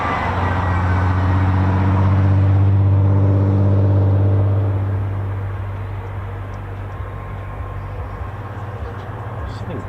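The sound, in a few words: aircraft jet engine spooling up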